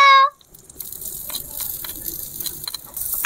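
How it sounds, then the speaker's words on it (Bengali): Chopped garlic drops into hot melted butter in a pan, bringing a soft, steady sizzle with crackly spits after a short, sharp, tonal clang at the start. "বাটারটা গরম হয়ে গেছে, এখন আমি বাটারের ভিতরে রসুন কুচি দিয়ে দেব।"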